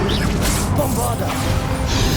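A Bombarda blasting spell in Hogwarts Legacy bursts with a loud, crashing, whooshing impact and mechanical clatter that fill the whole moment with dense, continuous effect noise.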